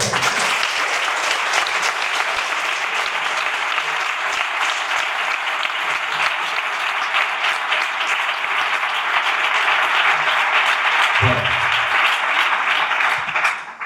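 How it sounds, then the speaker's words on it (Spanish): A crowd at a book presentation in Utrera gives a long, full round of applause. The clapping stays dense and even for the whole stretch before it trails off abruptly, with a brief low thump near the end. "os pido un gran aplauso a mi suegro Salvador"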